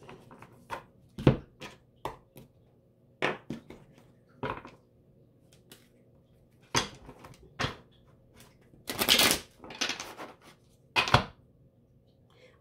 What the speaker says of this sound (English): I'm practicing my shuffling because I can shuffle pretty good, but sometimes I can't.